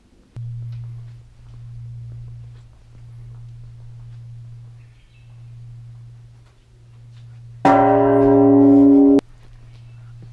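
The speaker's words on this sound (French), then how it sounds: "Alors ça sonne les cloches, mais on ne sait pas pourquoi." A temple bell on Mount Takao in Japan rings, with a low, humming sustained tone pulsing several times. Near the end comes a brief, much louder, bright, ringing strike rich in overtones.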